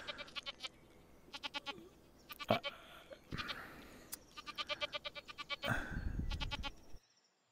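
Goats bleat repeatedly in the Kroy VR game, bursts of rapid pulsing calls coming in clusters, loud and close, over a low game hum and occasional thumps.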